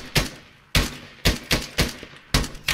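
Gunfire in a co-op military shooter game night, sounding as six sharp, loud shots spaced irregularly about half a second apart, each with a quick decaying tail, and no talking over them.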